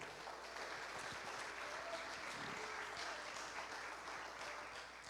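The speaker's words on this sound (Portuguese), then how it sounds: "Aplauda o Senhor." Church congregation applause during a sermon, a faint, dense patter of many hands spreading evenly through a large space, steady and low in level for the whole stretch.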